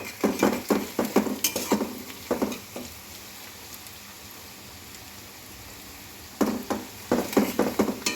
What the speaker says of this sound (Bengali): দেখুন পেঁয়াজটা ভাজা হচ্ছে।